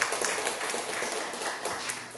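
A church congregation at a Korean Sunday worship service applauding together, a steady patter of many hands clapping for about two seconds at moderate level.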